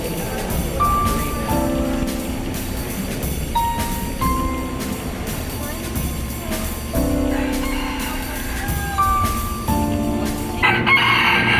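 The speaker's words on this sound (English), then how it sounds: "You hear the chickens? They're very, very vocal." Several chickens cluck and squawk nearby in San Juan, Puerto Rico, while a rooster crows more than once, a busy, noisy barnyard chorus throughout.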